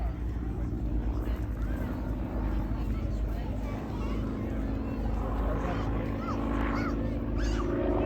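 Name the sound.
Yak-52 aerobatic aircraft flying an air display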